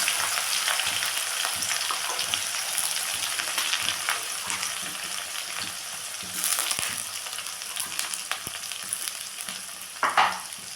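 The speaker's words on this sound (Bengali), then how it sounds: "পেঁয়াজটাকে ভালো করে ভেজে নেব।" Onions, whole and chopped, fry in hot oil with dried chilli, bay leaf and cumin, giving a steady, close sizzle that runs throughout, with a few clinks and stirring scrapes near the end.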